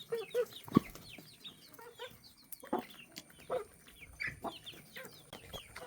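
Fighting rooster-type chickens pecking at paddy in a home yard, giving soft scattered clucks and short calls with faint pecking taps, close but quiet and irregular, no voices.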